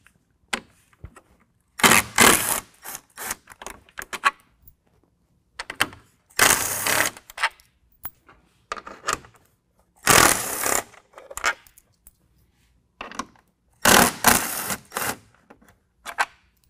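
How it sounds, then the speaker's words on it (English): A ratcheting 10mm tool backs out the grill bolts on a 2022 Ford Bronco in four separate bursts of loud, rapid mechanical clicking and whirring, each a second or two long with quiet gaps between them. "now we've got 4 bolts that hold the grill onto the upper mount. So we're gonna pull those out with a 10mm."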